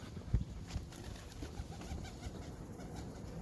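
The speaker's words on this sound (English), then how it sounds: "And behold, a pale pigeon." A pale pigeon cooing outdoors on a street in Manchester, soft low coos heard faintly over steady urban background noise.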